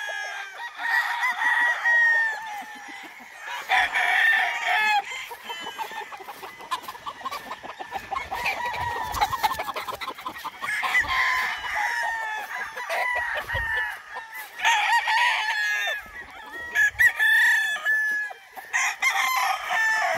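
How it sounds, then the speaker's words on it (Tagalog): Chickens and roosters on a game farm crowing repeatedly and clucking, several loud, close crows rising in turns over quieter clucks and chatter with brief gaps between calls. "Mga manok natin dito."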